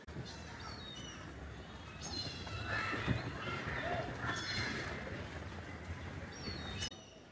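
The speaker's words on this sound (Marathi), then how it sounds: "पक्ष्यांचा आवाज पण आता चांगल्या प्रमाणे येतोय" Birds chirp and call from a distance along the Malabar Hill elevated nature trail in Mumbai, over a steady outdoor hum, with a brief louder sound partway through.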